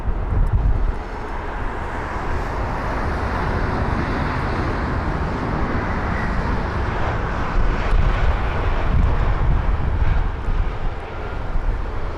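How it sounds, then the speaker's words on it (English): Aer Lingus Airbus A320neo airliner arriving at windy London Heathrow, its engines giving a loud, steady broadband roar that swells slightly and holds for the whole stretch, with no voices. "It's flight number EI158 for the Aer Lingus A320neo with the reg Echo India, November Sierra Bravo, or EINSB from Dublin, a 1 hour long journey"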